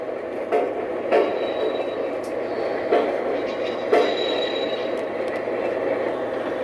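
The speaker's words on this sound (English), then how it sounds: "The slower the train goes, the more delayed the sound is" A toy model Pennsylvania Railroad train car rolls steadily along a track with a continuous rumble, marked by periodic clicks and clacks every second or so.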